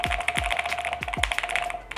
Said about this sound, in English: God knows what I'm typing now.